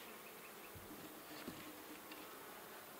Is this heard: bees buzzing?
yes